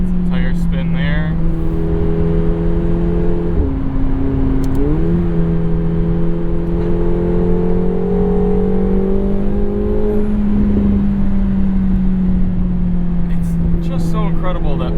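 A 2024 McLaren 750S sustains a loud, steady engine drone while accelerating with tire spin, the pitch dipping briefly and then climbing gradually, heard close and continuous throughout.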